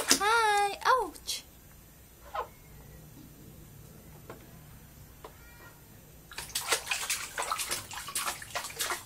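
A six-month-old baby splashes in bath water, with a burst of repeated uneven splashes near the end after quieter moments, while an adult talks and the baby babbles and squeals at the start.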